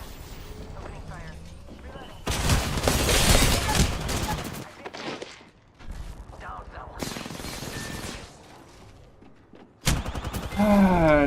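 Bursts of rapid automatic gunfire from a battle royale shooter, loud volleys recurring in several clusters with brief lulls, heavy and close, mixed with other game effects and occasional voices.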